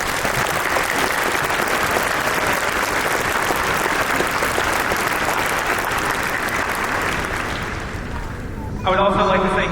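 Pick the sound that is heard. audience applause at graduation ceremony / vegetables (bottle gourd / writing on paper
audience applause at graduation ceremony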